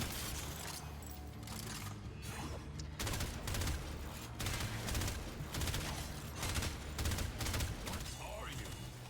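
Rapid gunfire in Warframe, repeated sharp shots in steady bursts across the whole stretch, loud and close over busy game sounds, with a player talking underneath.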